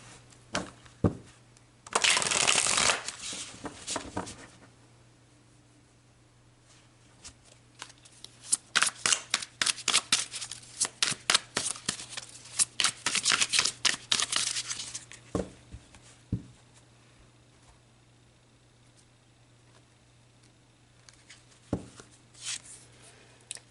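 A tarot card deck is shuffled up close, with bursts of crisp riffling and papery flicking that start and stop across the stretch. No one speaks.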